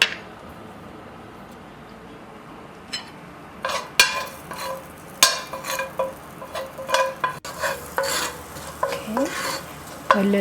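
Garlic frying in a hot pan, a soft steady sizzle under sharper clinks and scrapes of a utensil stirring against the pan, which grow busier after the first few seconds.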